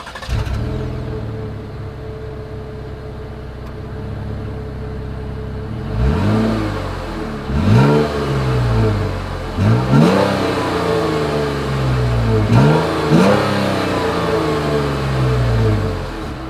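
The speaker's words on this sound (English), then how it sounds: "As always, here is that exhaust clip." The exhaust of a Jeep Cherokee SUV idles, then climbs through five or six sharp revs that rise and fall back, loud and close, with no talking over it.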